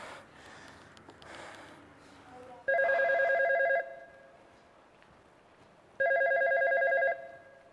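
A telephone rings twice in long electronic trilling bursts, loud and close, with a pause of a few seconds between rings after faint rustling and breathing in a quiet room.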